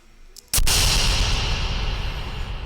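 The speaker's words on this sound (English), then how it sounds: "that's why I brought me an old soda, and I told Bradley I'd let him open it the microphone" An old soda can or bottle cracked open directly against a microphone, giving one sudden loud burst followed by a sustained, strong fizzing hiss that carries on to the end.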